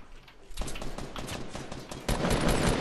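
Dense automatic gunfire in a Fortnite match, loud and continuous rapid bursts that start suddenly and intensify toward the end, with no speech over them.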